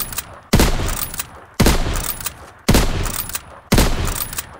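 Lever-action rifle firing in Call of Duty WWII, four loud separate shots at roughly one-second intervals, each a sharp crack with a decaying tail and faint mechanical clicks of cycling in between.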